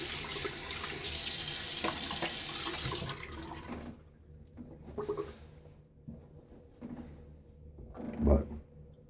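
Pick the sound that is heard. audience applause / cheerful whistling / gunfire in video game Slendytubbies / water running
water running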